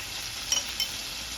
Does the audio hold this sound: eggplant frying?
yes